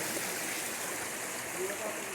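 Mountain stream flowing on a trail in the Mała Fatra range of Slovakia, near Mały Rozsutec, a steady broadband rush of water close by, continuous and fairly loud without a break.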